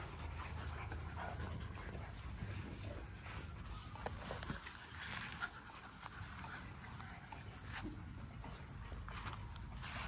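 A dog pants quietly in quick, steady breaths for about ten seconds, with faint shuffling and footstep-like sounds in the background.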